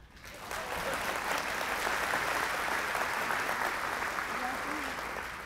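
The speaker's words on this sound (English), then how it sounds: "Don't applaud me." Steady applause from a keynote audience just after a poem ends, a broad wash of clapping that swells in quickly and holds evenly throughout, with faint voices mixed in beneath.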